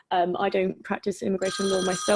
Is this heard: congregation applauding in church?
no